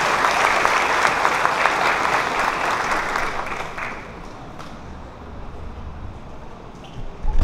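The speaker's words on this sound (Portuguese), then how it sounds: "Vamos dar uma salva de palmas, gente, que tem um casamento." Wedding ceremony guests clapping together, a loud dense burst of applause that fades out after about four seconds, leaving quieter room sound with a few stray noises.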